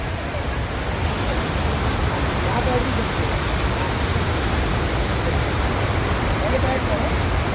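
Steady, loud rushing water roars without a break, spray from a waterfall on the Narmada splashing nearby, filling the whole stretch.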